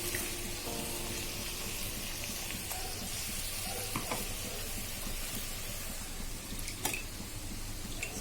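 Yam paste sizzles steadily in a hot kadai as a little water is added, a continuous frying hiss with faint stirring and occasional sharper pops, close and moderately quiet, with no talking.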